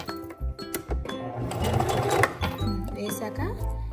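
A sewing machine stitches cloth while a bow is sewn for home decoration, with bursts of quick mechanical whirring and clicking between pauses as someone talks over it.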